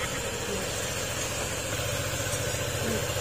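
A Honda ADV150 scooter engine with an abnormal noise idles steadily at close range, a continuous low rumble with a fine rhythmic putter and no voices.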